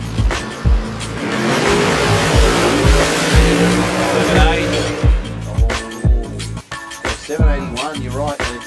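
An Outlaws-class drag race car at an Australian race meeting roars loudly close by with a harsh, rasping engine note that dominates, then fades amid an announcer's commentary and engine pops.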